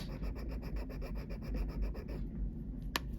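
A piece of jewelry is rubbed in quick rhythmic strokes across a gold testing stone, a close, faint gritty scraping that stops, followed by a single small click.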